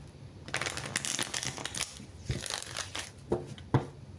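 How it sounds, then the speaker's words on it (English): Close, papery riffling of tarot cards being shuffled in repeated bursts, with soft crinkles and taps between them. "Since I've been sitting here shuffling"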